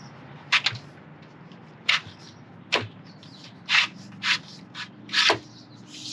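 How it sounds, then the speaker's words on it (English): A thin-blade screwdriver prying plastic U-channel out of an RV screen door, heard as several short scraping and rubbing bursts spaced irregularly, close and moderately loud over a quiet background. "Thin blade screwdriver, reach down, grab that, and pull it out."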